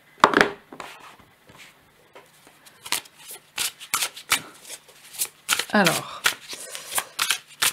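Symbolon oracle cards are shuffled by hand for a reading, giving repeated quick riffling and sliding bursts at close range, with someone speaking softly between them.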